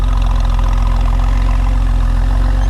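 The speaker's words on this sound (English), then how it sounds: "This idles incredibly smooth." A 1997 Porsche 911 Turbo engine idles steadily and smoothly at close range, a loud continuous low rumble with an even pulsing exhaust note and no voices.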